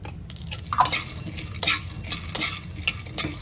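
Peanuts roasting in ghee in a pan, stirred with a metal spoon that scrapes and clinks in a quick uneven rhythm over a soft sizzle, close by.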